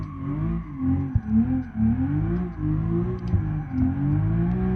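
An ETK S-series luxury sedan with an N55B30 engine in BeamNG Drive revs and climbs through gears, the engine note rising and dropping with each quick shift, loud and steady with no talking.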